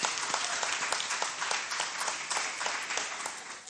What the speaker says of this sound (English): I think Rivers State deserves a round of applause.